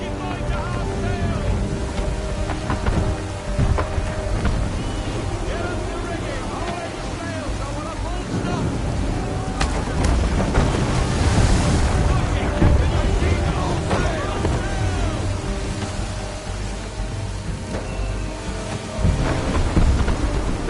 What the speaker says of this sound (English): There's a storm coming, Captain. Feels like a big one.